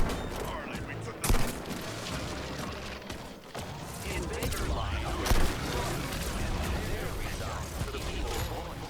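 Gunfire in the video game Suicide Squad during a fight against a tank: rapid, dense bursts of shots and booming blasts pile into a constant loud barrage, with a narrator talking over it.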